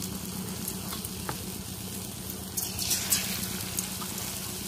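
Besan-batter-coated botboti beans frying in hot oil, a steady close sizzle with some brief crackling and stirring bursts.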